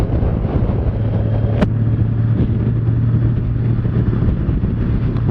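A 2018 Honda Goldwing motorcycle engine hums steadily on a test ride, a low smooth drone mixed with wind rush, with one brief sharp click early on.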